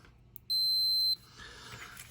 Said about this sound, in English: I'm actually going to use the scale that is used for transistors because it beeps